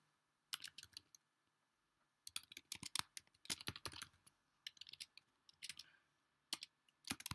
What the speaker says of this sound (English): My keyboard is going a bit slow